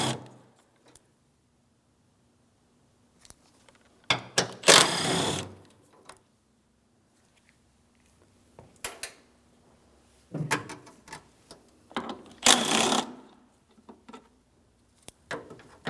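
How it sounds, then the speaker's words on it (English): A 13mm ratchet wrench backs out the battery bracket mounting bolts on a 2007-2014 GMC Sierra 2500 HD in several separate bursts of quick ratcheting, loud and close, split by long quiet gaps and scattered small clicks. "We'll use the 13mm for all 4 of our mounting bolts."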